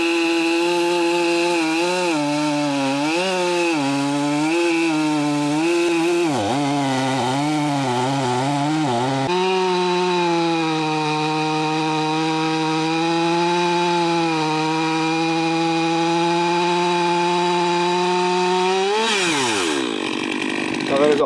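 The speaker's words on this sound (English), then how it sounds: "cutting from the bottom up holds a lot more risk for the chainsaw bucking on you" A chainsaw runs loud and steady throughout, its pitch dipping and wavering as it bogs into a log cut from the underside, then settling into a sustained high whine before winding down near the end.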